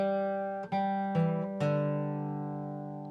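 A guitar picks a short beginner melody on open strings, with a few separate plucked notes ringing close and clean, each one decaying slowly into the next.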